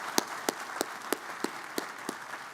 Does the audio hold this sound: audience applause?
yes